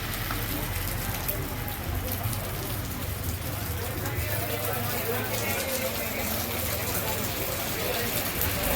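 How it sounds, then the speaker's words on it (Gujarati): Heavy rain pours steadily at a fair in Porbandar, a dense loud hiss of drops drumming on surfaces close by, with a voice speaking over it. "વરસાદ ફૂલ વરસે છે"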